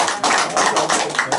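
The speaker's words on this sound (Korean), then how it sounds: "박수 한번 쳐주세요." A church congregation at a Korean thanksgiving worship service claps in a short, loud burst of rhythmic, fairly even handclaps lasting about a second and a half.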